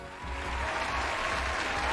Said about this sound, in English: And keep the applause going